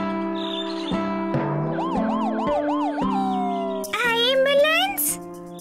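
A cartoon-style ambulance siren wails in a rising and falling pattern over background music in an animated Telugu children's story, with a voice speaking alongside.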